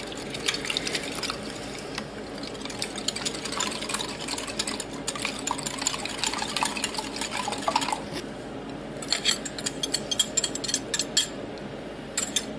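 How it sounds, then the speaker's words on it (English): Two eggs are cracked into milk and mixed in a bowl, giving a steady wet clatter of rapid whisking against the dish. The beating runs in bursts with short liquid sloshes, close and moderately loud throughout. "We are going to crack 2 eggs in."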